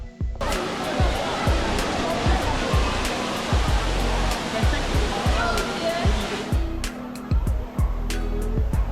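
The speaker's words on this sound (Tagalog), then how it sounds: "agad kang sasalubungin ng napakalaking indoor waterfall na ito" A very large 35-metre indoor waterfall in the Cloud Forest conservatory at Gardens by the Bay, Singapore, roars as a steady, loud broadband rush of falling water throughout.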